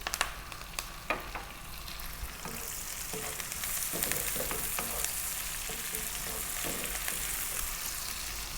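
About a cup of onions fries in a pot for lamb curry, a quiet continuous sizzle that swells after a few early utensil clicks and scrapes, with no voices.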